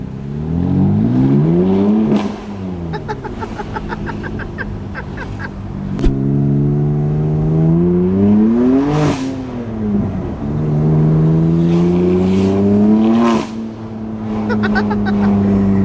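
A BMW M3 F81 Touring wagon with a modified exhaust revs repeatedly, loud rising and falling engine tones in several pulls, with crackling overrun between revs, close and dominant without talk.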